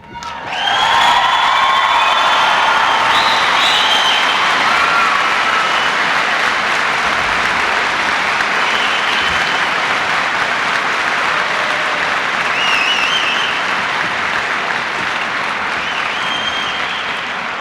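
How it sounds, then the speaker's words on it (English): Loud, sustained applause and cheering from military personnel and their families greeting the president in Keflavik, Iceland: dense clapping with whoops and shouts rising quickly and holding steady throughout. "It seems to me that we have one more round of applause still to go."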